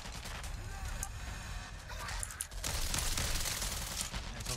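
Ranch rifle in a video game firing in a rapid, dense burst of gunfire, loud and continuous, with players talking over it.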